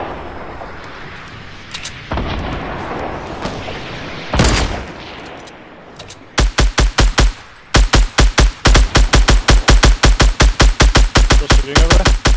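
Video game gunfire in a Fortnite-style duos match: muffled distant bursts early, then from about six seconds a loud close rapid stream of repeated shots, sustained automatic fire with brief gaps, no talking.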